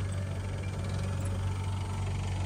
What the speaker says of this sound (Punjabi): ਬਾਬੇ ਤੁਹਾਨੂੰ ਟਰੈਕਟਰ ਚੱਲਦਾ ਦਿਖਾਈਏ